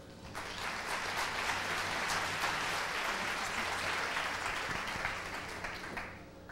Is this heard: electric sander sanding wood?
no